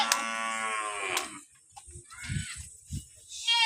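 Cattle grazing in a Kenyan village pasture give a long, loud, close moo, then a second shorter call, with quieter animal sounds and background noise between.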